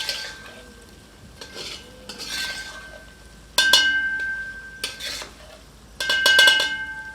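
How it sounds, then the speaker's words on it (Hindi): A ladle stirs royal Mughlai korma in a pot over low heat, giving short scraping, clinking passes of metal against the pot in several separate bursts under a faint background hum. "एक बार अच्छी तरह करछी चलाते हैं।"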